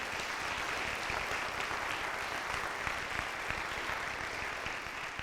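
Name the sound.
audience applause at a winter band concert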